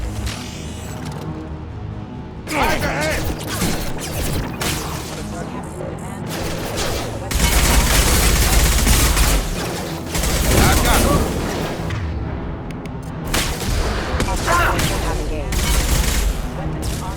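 Sustained bursts of automatic gunfire and explosions from the Mass Effect 2 video game, dense and loud, coming in several volleys with short gaps between them.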